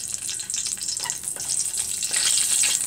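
Bay leaves and slit green chilies hit hot oil with a bright, hissing sizzle that swells into louder spitting crackles toward the end, close and steady with a few scraping stirs.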